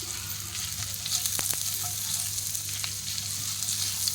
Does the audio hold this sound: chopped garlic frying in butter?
yes